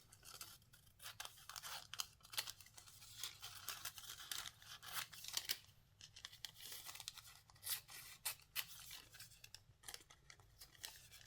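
Scissors snipping through a paper skirt pattern, close and quiet, with a run of crisp irregular cuts and paper rustling, a short pause, then more cutting.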